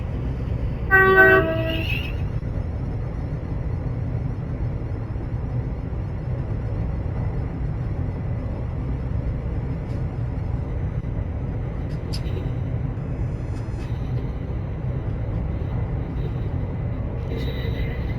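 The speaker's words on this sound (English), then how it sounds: "this is the sounds for the 350 on Train Sim Classic." Class 350 electric train in the Train Sim Classic game, a horn toot near the start followed by a steady low running rumble with faint clicks, heard alone.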